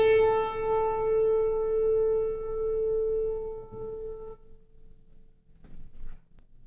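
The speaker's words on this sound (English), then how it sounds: "listen how it echoes all the other strings sympathetically vibrating." A piano note played with the pedal down, ringing richly with a halo of resonance for about four seconds before it is cut off, leaving faint room noise.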